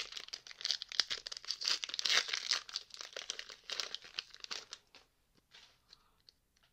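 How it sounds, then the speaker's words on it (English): Foil Pokémon Vivid Voltage booster packs crinkle and tear open in dense, close bursts of crackling rustle, then thin out into a few quieter handling crinkles near the end. "let's open up the 8 booster packs of Vivid Voltage"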